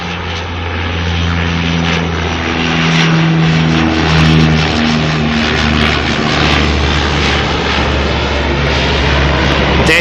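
A Dash 8 turboprop airliner arriving at Auckland Airport, heard from the end of the runway with a loud, steady propeller drone and engine hum that swells as it nears, no talking.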